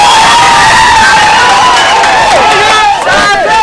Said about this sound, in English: Upon release, the crowds just went wild.